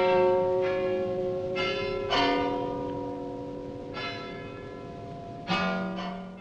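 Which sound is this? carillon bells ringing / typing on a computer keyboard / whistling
carillon bells ringing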